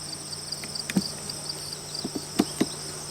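Honeybees humming at an opened backyard hive during an inspection, a steady close buzz with a few soft knocks and clicks from the frames.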